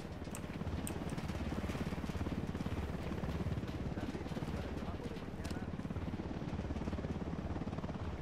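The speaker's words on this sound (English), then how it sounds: "We got a chopper." A helicopter in the video game Ghost Recon Wildlands gives a steady, rumbling rotor drone that fills the whole stretch at moderate level without a break.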